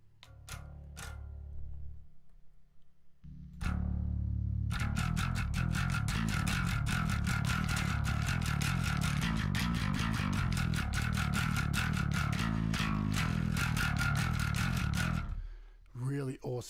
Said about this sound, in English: awesome for sick distortion sounds